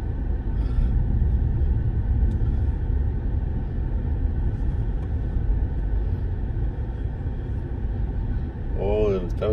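Heavy road traffic in Chimaltenango, Guatemala, a steady low engine and road rumble heard from inside a moving vehicle, with someone talking throughout.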